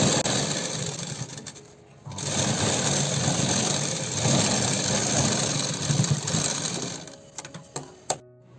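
Sewing machine running steadily as it stitches a princess-cut blouse, a continuous close mechanical whir for most of the time, dropping briefly near the start and stopping toward the end with a few small clicks.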